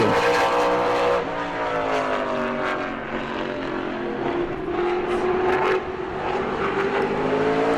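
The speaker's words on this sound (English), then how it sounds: "tire rev here on Nick White in car number 22." A super late model race car engine screams at high revs during qualifying at New Smyrna, its pitch rising and dipping through gear changes as it holds a loud, sustained whine.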